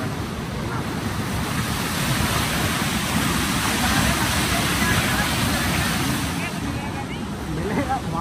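A river in a forest tiger reserve rushes steadily, a dense broadband wash of flowing water with wind buffeting the microphone, continuous and fairly loud throughout, while someone talks over it.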